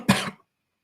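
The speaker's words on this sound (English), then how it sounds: "I'm sorry, I need to cough again." One short, sharp cough from a podcast host, close to the microphone, followed by silence.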